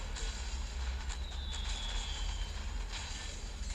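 Aircraft engine drone from planes attacking an enemy base in the strategy game Domination, Industrial Age era, a steady continuous roar with a brief rising whine in the middle.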